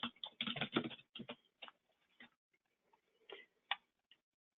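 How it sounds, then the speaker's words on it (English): Bursts of quick keystrokes on a computer keyboard while a memo is typed into accounting software, a dense flurry of clicks at first, then slower scattered taps, close and fairly quiet. "So we would type our memo"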